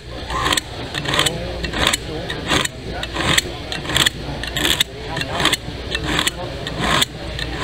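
A Kershaw knife blade drawn repeatedly through a squeeze-type knife sharpener, giving a steady series of rhythmic scraping strokes, close and loud over a constant background hum.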